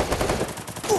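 A quick burst of rapid gunfire in a video game, sharp and compressed, lasting about a second.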